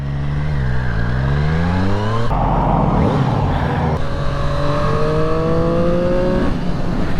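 Engine of a Triumph Street Triple RS motorcycle under way, revving steadily with rising and falling pitch through the gears, loud and close throughout, with constant wind rush and no speech.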